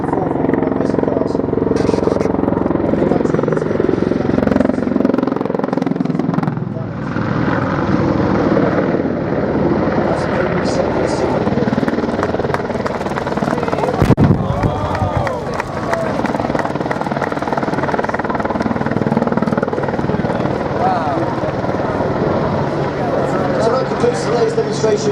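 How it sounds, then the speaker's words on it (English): Army Air Corps Apache attack helicopter, twin engines of over 2,300 shaft horsepower each, flying a display at an air festival: a loud, continuous rotor and turbine roar with a swell near the middle, under crowd noise and commentary. "Demonstration of the Army Air Corps Apache helicopter."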